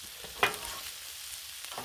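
Tomatoes cook beside spinach on a Blackstone griddle, a soft steady sizzle running throughout with one brief louder crackle or scrape near the start.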